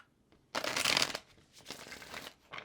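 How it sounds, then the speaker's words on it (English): A deck of tarot cards is shuffled in a few brisk riffling bursts, close and crisp, with short pauses between them and no talk. "let's go ahead and get this last shuffle, and then we'll make our cuts."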